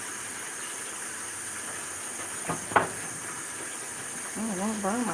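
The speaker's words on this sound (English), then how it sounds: "I'm going to pour half of this mixture in." Mixture poured into a hot pan of spaghetti: a steady, loud hiss and sizzle that keeps going throughout, with a brief clatter near the middle and a voice starting toward the end.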